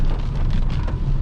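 Rain falling steadily on a car while it is driven in the late-afternoon dark, a dense continuous wash of patter over a low road rumble, filling the clip without voices.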